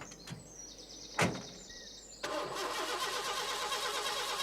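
Postman Pat's new van: a couple of sharp clicks and a thud, then the engine cranks and catches into a steady mid-pitched running rumble that carries on to the end, close by and moderately loud.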